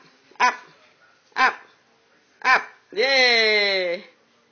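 A dog gives three short, sharp barks spaced about a second apart, then a longer drawn-out whining howl, close and clear.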